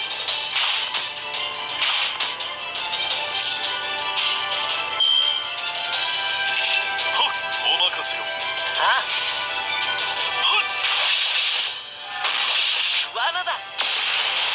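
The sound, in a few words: Lancelot's sword attack in the video game Fate/Grand Order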